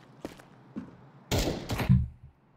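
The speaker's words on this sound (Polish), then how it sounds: "Kogo to był strzał?" A couple of sharp, loud bangs in quick succession with a booming low tail, preceded by a few fainter thumps, from gunfire in the video game Counter-Strike 2.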